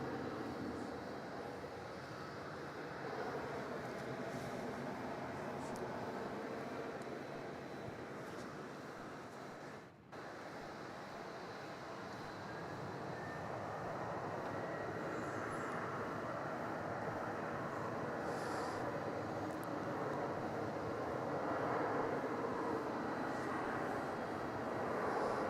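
A Qantas airliner takes off from runway 34 at Melbourne Airport at night, a distant, steady broadband jet roar that holds for the whole stretch and swells slightly toward the end, with no talk over it.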